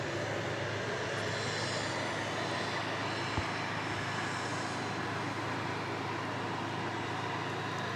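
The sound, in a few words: Airbus A300 aircraft engine, flight to Louisville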